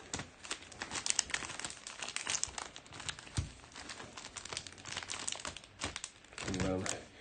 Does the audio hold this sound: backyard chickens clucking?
no